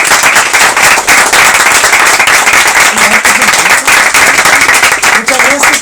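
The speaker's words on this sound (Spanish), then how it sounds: "Ya un aplauso para Pablo." A small audience at a live talk session applauds a guest: loud, dense clapping that crackles without pause throughout, close up, with faint voices mixed underneath.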